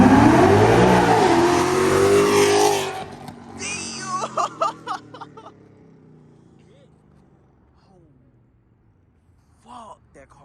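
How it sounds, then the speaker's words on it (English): A loud car engine, likely a cammed Mustang or Scat Pack at a late-night meetup, roars and revs hard at close range, then fades as it pulls away, leaving quieter revs and distant engine bursts with voices talking over it. "that car loud as shit"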